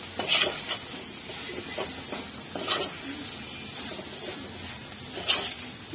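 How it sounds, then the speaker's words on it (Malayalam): Tomato going into a prawn curry flavoured with kudampuli, stirred with a spoon against the pot, giving soft scraping strokes over a low sizzle and faint clinks of the utensil, close and moderately loud with no talking. "ഒരു തക്കാളിയാണ് ഞാൻ ചേർക്കുന്നത്"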